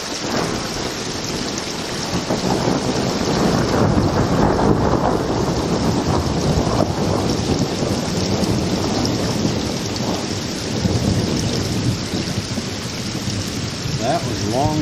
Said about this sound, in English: And we have some thunder roll in here.